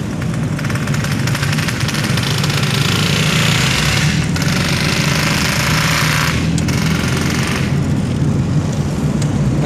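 A motorcycle engine runs in second gear on Demang Lebar Daun road in Palembang, giving a loud, steady, rattling drone that never stops, with no voices.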